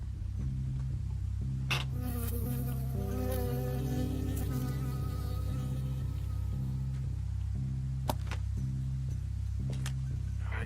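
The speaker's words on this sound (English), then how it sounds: "I got stung by a bee." A bee buzzes steadily and close in the Firewatch video game, a continuous droning hum with a few faint clicks.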